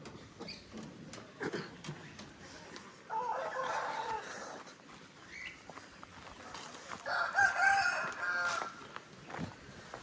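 Two rooster crows from native country chickens on a farm near Mangalore ring out at moderate distance, one in the middle and a longer one toward the end, over faint background chatter and rustling.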